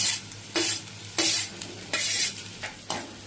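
Chopped onions and sliced green chillies sautéing in hot oil in a pan, with a steady sizzle and a spatula scraping in rhythmic bursts about every half-second to second, close and fairly loud with no talking.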